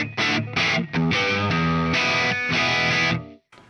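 A Fender Stratocaster plays through a Mesa Boogie amp on its clean channel set somewhat gainy, giving loud, slightly driven chords and notes in short phrases with gaps between them, alone without talk.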